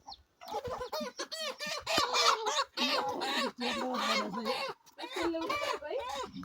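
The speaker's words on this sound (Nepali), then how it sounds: "कुखुरा समात्यो" A chicken clucks and squawks in agitated bursts while being caught in a village, loud and close, mixed with people talking nearby.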